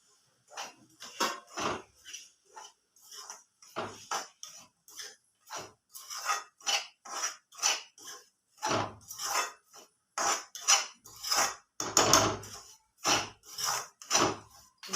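Roasted semolina being stirred into a pan for upma, with a spoon scraping and knocking against the metal in a steady run of rhythmic, close strokes and no speech.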